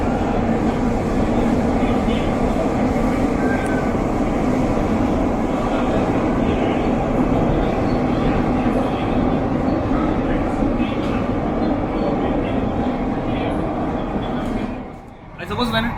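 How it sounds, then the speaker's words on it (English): Underground metro train on Mumbai's Aqua Line near Cuffe Parade, a steady loud rumbling hum filling the carriage throughout, dipping briefly near the end. "when it comes to the underground metro, we have to get habituated with this type of humming sound."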